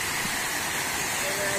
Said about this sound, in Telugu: చాలా చాలా చాలా ఆసమ్ గా ఉంది అన్నమాట వాటర్ ఫాల్ ఇక్కడ.